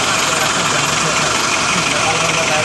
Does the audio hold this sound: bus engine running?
yes